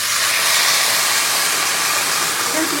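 Boiling water spiced with cumin, star anise and whole garam masala pours onto fried rice, giving a loud, continuous steam hiss throughout.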